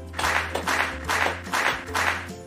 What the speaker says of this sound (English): So let's also give them a 5 wonderful clap.